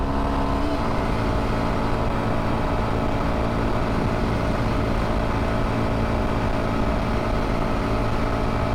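A 2022 Kawasaki KLX230S ABS motorcycle held at wide open throttle in 6th gear around 60 mph on flat ground, a loud steady engine drone with wind rush, unbroken and alone.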